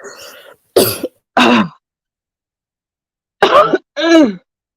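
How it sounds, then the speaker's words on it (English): Several sharp coughs and throat-clearing bursts come in two clusters, loud and close, separated by a couple of seconds of silence. "We coughing at the darn same time."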